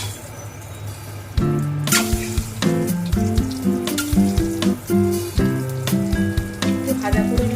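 Duck eggs fry one by one in hot mustard oil in a kadai, a soft sizzle running beneath prominent music throughout.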